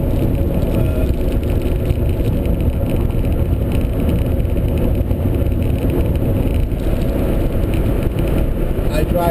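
Steady broadband road and drivetrain rumble from a converted electric car cruising on a freeway after a DC controller upgrade, continuous and close with no engine note or talk.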